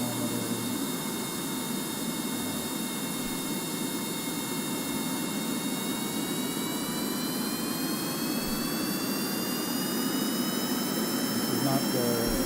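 Steady jet engine roar from a crude player-built plane in Kerbal Space Program, a continuous whooshing drone with a slowly rising whine throughout, loud and unbroken.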